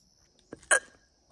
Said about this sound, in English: And I have the hiccups.